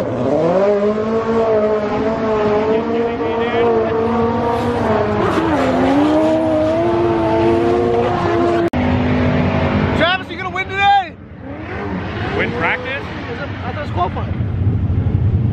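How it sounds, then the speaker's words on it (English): A Nissan S15 Formula Drift race car runs on track, its engine note rising and falling in long sweeps with a sharp tire squeal near the end, heard from behind a fence while people talk nearby. "Peter in the S15"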